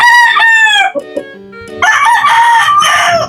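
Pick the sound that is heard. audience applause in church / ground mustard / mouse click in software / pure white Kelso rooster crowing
pure white Kelso rooster crowing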